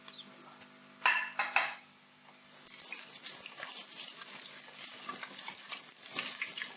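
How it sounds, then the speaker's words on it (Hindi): Low sizzling of ginger garlic paste frying in a pan with a few sharp clinks of a utensil early on, then a steady crackle of frying that carries on. No voices. "अब इसमें हम अदरक लहसुन का पेस्ट डालते हैं।"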